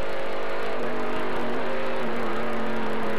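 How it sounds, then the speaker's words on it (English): Race car engine on a road course at the Jiffy Lube 100, a steady loud mechanical whine from a single car heard alone for a few seconds. "Oh, you just got to listen to that horsepower. You heard him downshift twice."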